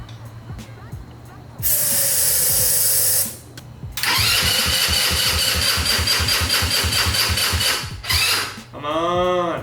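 A Honda Ruckus scooter that won't start gets hissing sprays of starter fluid between bursts of its engine cranking, a rapid chugging that repeats without catching.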